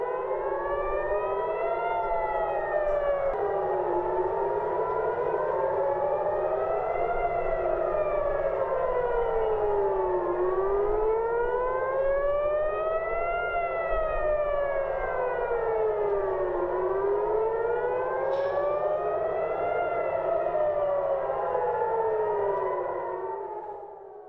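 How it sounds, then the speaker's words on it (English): A loud air raid siren wails continuously, its pitch rising and falling in slow, repeating sweeps with layered tones, steady and alone throughout. "This air raid siren appears"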